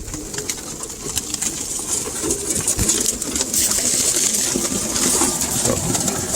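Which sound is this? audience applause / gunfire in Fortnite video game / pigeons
pigeons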